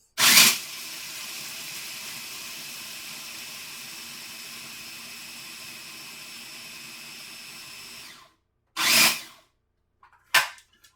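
A grinder whirs loudly and steadily for about eight seconds, grinding ingredients down to a coarse flour, then cuts off and gives two short, sharp bursts near the end.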